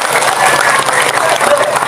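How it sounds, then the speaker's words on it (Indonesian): Applause from a large crowd at a Maulid Nabi religious gathering in Dukuh Dalem, Pangkalan, clapping for the organizing committee: steady, dense clapping that fills the whole short stretch, fairly loud and close, with no speech over it. "tepuk tangan buat semua para panitia"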